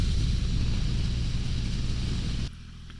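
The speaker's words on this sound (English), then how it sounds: "That buzziness is pretty much all from the engine." A 2023 Triumph Rocket 3 GT motorcycle engine hums with a steady, close buzz while riding, joined by broad rumble and wind, then drops abruptly to a quieter idle-like drone near the end.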